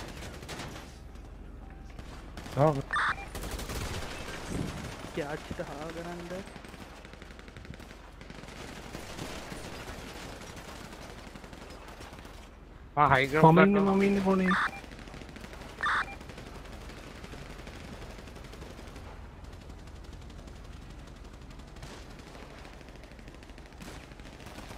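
Gunfire rings out in a GTA roleplay gang fight between Ballas and Aztecas, with scattered shots early and a dense rapid volley midway, while players talk and shout over it.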